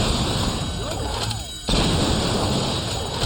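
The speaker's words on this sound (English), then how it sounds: "So we're gonna shoot up the liquor store here." Gunfire in Saints Row 2 as a liquor store is shot up, a dense, loud, continuous barrage of shots with a brief dip near the middle, with no talk over it.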